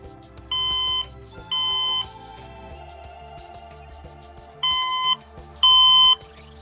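Phone alarm tone from a BLU View 1, a tinny recorded-sounding clock beep: four short electronic beep bursts in two pairs, with faint background noise between them.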